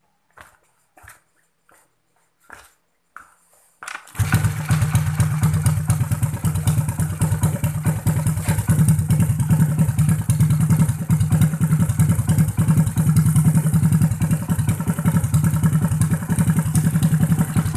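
A Grand motorcycle engine is started: a few faint clicks and clatters, then at about four seconds the engine catches and runs at a loud, steady idle for the rest of the clip.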